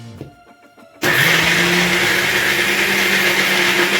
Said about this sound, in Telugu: ఇప్పుడు ఇది కొన్ని వాటర్ పోసి బరకగా మిక్సీ పట్టుకుందాం